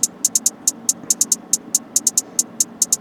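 Crisp, tight hi-hat ticks in a bouncing, syncopated yeet-style rhythm, short bursts and quick doubles over a faint low hum.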